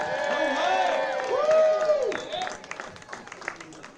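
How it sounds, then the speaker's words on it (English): A crowd at the 2019 Waterbury Christmas tree and menorah lighting claps and cheers for the PAL Choir, with whoops and voices rising over the clapping before it thins out. "Let's a big round of applause for our Pal Choir."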